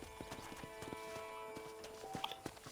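A horse's hooves clip-clop in a steady walking rhythm on a farm in Red Dead Redemption, close and crisp against a quiet background hum.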